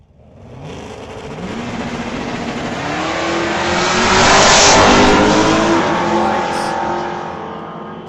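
A Dodge Dart and an S10 pickup launch side by side at a drag strip, their engines roaring and rising in pitch as they accelerate down the quarter mile, loud and close, building to a peak midway before easing off.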